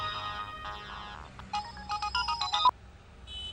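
A mobile phone ringtone for an incoming call plays as a melodic series of short electronic tones, moderately loud and close, then cuts off abruptly.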